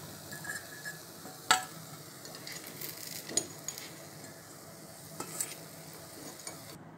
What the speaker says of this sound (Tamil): பணியாரம் வெந்துருச்சுங்க. இப்போ நம்ம எடுத்துக்கலாங்க.